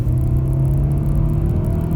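Inside the cabin of a 100-horsepower Honda Civic 1.4i-VTEC Sport, a steady low engine drone and road rumble carry on under acceleration, loud and continuous with no voices.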